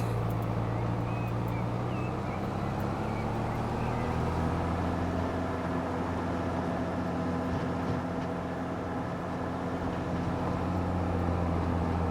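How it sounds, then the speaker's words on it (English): A video-game tractor engine drones continuously at a low, labored pitch while climbing a hill in Farming Simulator 25, a steady loud rumble with no pauses. "Love the sound of this tractor when it's"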